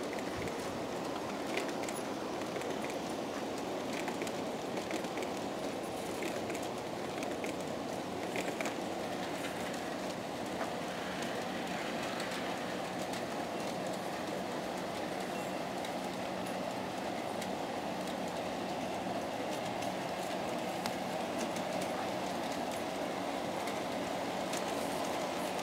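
Continuous rumble and clatter of an Aristo-Craft Mallet model train with Kadee couplers running over a viaduct on a garden layout, steady and moderately close for the whole stretch.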